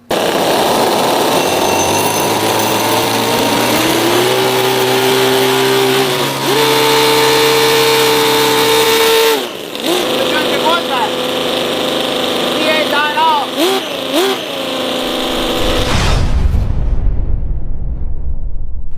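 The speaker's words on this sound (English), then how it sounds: "I'm gonna hit them both individually and see how each engine sounds with the nitrous" Miniature model V8 and V12 engines fed with nitrous run loudly nearby, a buzzing drone that climbs in pitch, cuts out abruptly, then sputters and surges in rough bursts before dying into a low rumble, with brief talk.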